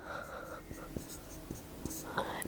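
Pen or pencil writing out a math solution on paper, with soft scratchy strokes and light taps close by, quiet and steady with no talking.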